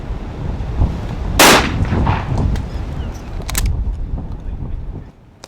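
Two sharp gunshots are fired at rabbits while ferreting on a windy day, with a loud close report early on and a second shot a couple of seconds later, each followed by a short echoing tail over wind noise.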